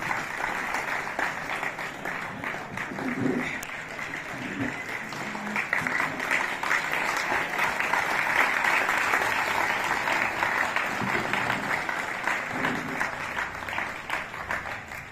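An audience of students claps for a speaker at a lecture, with sustained, even applause from a large crowd filling the whole stretch without a break.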